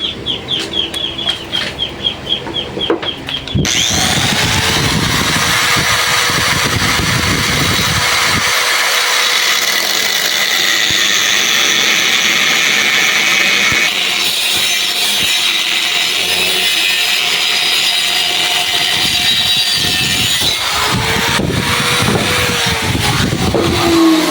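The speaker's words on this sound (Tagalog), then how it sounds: "So sa gamit ng grinder, hawak lang mabuti." An angle grinder cuts metal while a waste-oil stove is built, a loud, continuous harsh grinding whine that starts after a few seconds of quieter handling noise and runs steadily, with brief dips, to the end.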